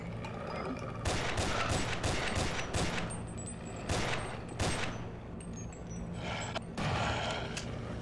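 Rapid bursts of gunfire from the video game Sven Co-op, several dense volleys and single shots spread across the clip, loud and close over a steady low hum, with brief gaps between bursts.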